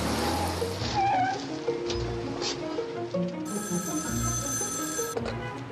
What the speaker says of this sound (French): Nouveau coup de téléphone.